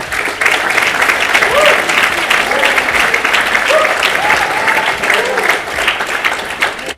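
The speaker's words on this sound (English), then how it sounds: "A big applause, please," A conference audience gives a long, steady round of applause, even and sustained throughout, with a few voices faintly rising above the clapping.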